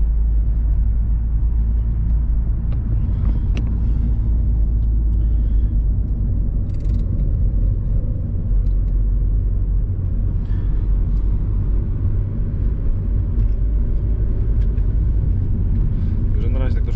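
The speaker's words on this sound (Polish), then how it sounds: "silniczek bardzo ładnie pracuje teraz, naprawdę" A 1.9 TDI PD diesel engine, freshly repaired after a camshaft replacement, runs at a steady idle, a continuous deep close rumble with no change in pace.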